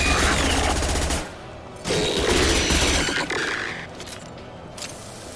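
Submachine gun fire in Mass Effect Legendary Edition, a rapid rattling burst of shots up close, then a pause and a second burst, followed by quieter mechanical clicks and scrapes.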